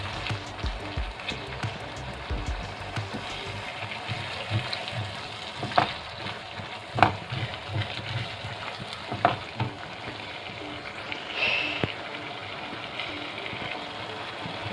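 Chopped tomatoes sizzle and fry steadily in a pan while being cooked down for green chicken masala, with a few scattered clinks and stirring knocks over the continuous crackle.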